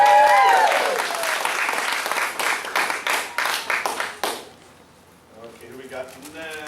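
Audience at a martial arts belt ceremony in Mount Dora, Florida, bursts into loud sustained applause with dense clapping that fades out after about four seconds, followed by quieter talking.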